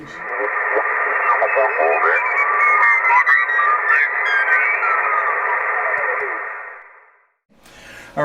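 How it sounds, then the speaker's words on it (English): FT847 all-mode amateur radio receiving during the Ontario QSO Party contest: loud, narrow-band radio audio with a garbled voice and sweeping whistling tones, which fades out near the end and then briefly returns. "The radio we're using here is a FT847."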